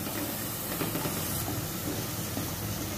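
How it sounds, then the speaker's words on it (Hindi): Ginger, garlic, green chili and coriander paste frying over a low flame for Malvani egg curry, a dense continuous hiss and sizzle, close and steady throughout. "अब इस पेस्ट को अच्छी तरह से भूनना है।"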